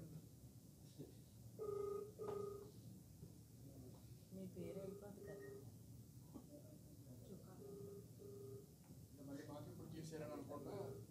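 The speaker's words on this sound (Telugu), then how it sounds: "రింగ్ అవుతుంది" Faint telephone ringback tones sound on an outgoing call, coming in several repeated paired bursts. Voices talk underneath and between the bursts.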